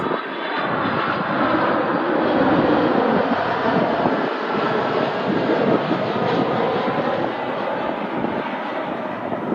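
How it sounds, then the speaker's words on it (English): A Delta Boeing 767-300 heavy jet coming in to land at Cleveland from Detroit gives a loud, steady, rumbling engine roar that holds for close to ten seconds and swells slightly near the middle. "It's a 767-300 heavy jet inbound from Detroit."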